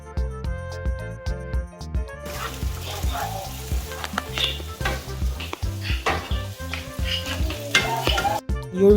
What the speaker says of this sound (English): Just stir around the rice until it cooks up, until it fries evenly